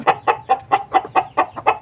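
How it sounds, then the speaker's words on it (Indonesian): Bangkok breed chicken clucking close by, eight evenly spaced loud clucks in a quick regular rhythm with little else around. "Ini juga adalah ayam jenis Bangkok yang saya miliki."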